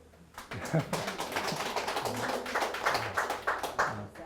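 An audience at a Buddhist sermon claps in a scattered, lively burst of applause that continues steadily, with a voice briefly audible beneath it.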